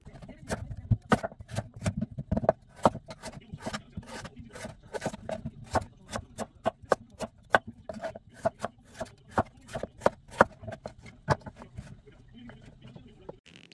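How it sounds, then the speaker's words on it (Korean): A knife cuts thick strips of radish peel on a cutting board in a steady series of crisp, close chops that come faster in the middle and space out toward the end, over a quiet background. "무 껍질을 두껍게 썰어주세요"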